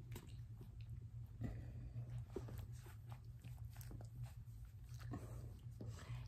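Puppies in a litter of five chew and lap at mushy ground-up dog food, soft wet biting and smacking sounds spread through a steady low hum.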